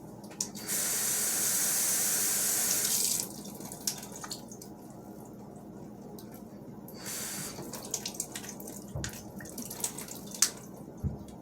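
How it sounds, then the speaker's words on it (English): Water runs from a tap in a loud steady stream for a few seconds to fill a container for regrowing grocery-store plants, then stops, followed by scattered drips, splashes and small handling clatters nearby. "So you just fill this up with some water"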